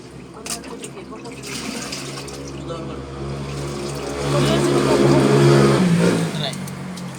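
Water surging back up through a separator drain and gushing steadily, growing louder and heavier toward the end, with an engine-like rumble underneath.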